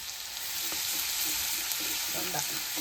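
Spice paste of garlic, cumin and onion frying for a vegetable curry, a steady close sizzle with faint stirring scrapes throughout and no voices.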